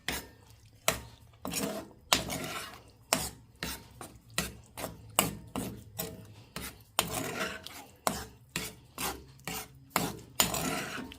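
Thick baked ziti pasta being stirred together with a sausage sauce, giving repeated wet, scraping strokes of a utensil against the pot. The strokes come in a steady rhythm, close and fairly loud, with no talking.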